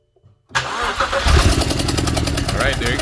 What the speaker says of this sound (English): Let's go start the engine.